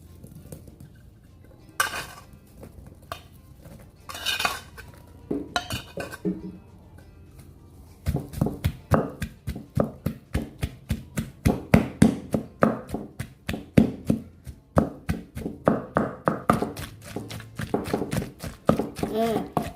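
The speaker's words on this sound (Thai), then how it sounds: "เราก็จะนำในส่วนของหอมกระเทียมลงไปโขลกต่อเลยค่ะ" Shallots and garlic pounded in a mortar, first a few scattered thuds and then a fast, steady run of close, loud pestle strikes, while someone talks in the background.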